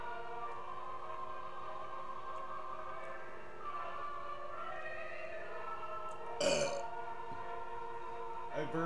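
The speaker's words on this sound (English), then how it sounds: "Burped right at the end of the song." A short, loud burp bursts out at the close of a church congregation's song, standing out briefly over the steady wash of singing and organ-like sustained tones.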